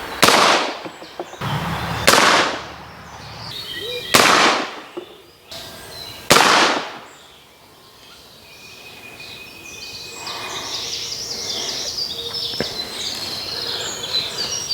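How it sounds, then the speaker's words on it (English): Four sharp, loud gunshots from a musketoon firing 3D printed minié bullets at a target crack out at roughly two-second intervals, each with a ringing echo, followed by quieter outdoor ambience with faint birds. "Fire in a couple of shots and then we'll see what it does in the slightly longer barrel of the musketoon."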